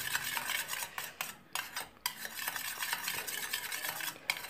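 A spoon stirs a lemon teeth-whitening mixture, scraping and clinking quickly against the container in close, continuous strokes with a few brief pauses.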